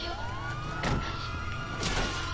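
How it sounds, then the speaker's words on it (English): A police car siren in the video game GTA 5 wails steadily with rising and falling sweeps, moderately loud and continuous over engine and street noise, with no talk. "I'm gonna come and pick you up with this police car."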